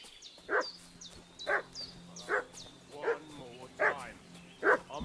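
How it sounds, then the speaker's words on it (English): A dog in Kingdom Come: Deliverance II barks in a regular series of six sharp woofs at an even pace, moderately distant, over a quiet ambient game background. "What's that dog making such a fuss about?"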